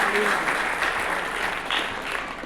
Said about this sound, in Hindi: एक बार फिर से जोरदार ताली